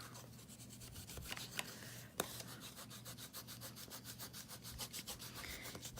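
Card stock being burnished with a bone folder while making a holiday treat box, a soft close rhythmic rubbing and scraping in quick repeated strokes, quiet throughout with no talking.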